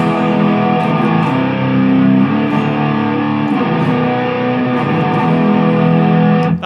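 An electric guitar on its neck pickup, run through Marshall Governor and DS2 distortion pedals, plays a loud, thick, heavily distorted sustained riff with little bass, close and continuous with no talking.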